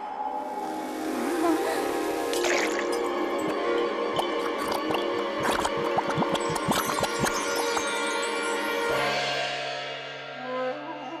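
A cartoon pill dropped into water fizzes and bubbles, giving a busy run of wet drips, squishes and pops that swell loudly in the middle, then settle into a sustained tone.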